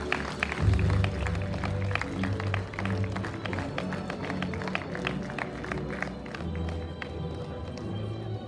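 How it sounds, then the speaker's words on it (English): A large graduation ceremony audience bursts into dense, sustained applause and cheering, a loud continuous wash of clapping heard nearby that holds steady throughout. "Please give a thunderous round of applause to the change makers of tomorrow."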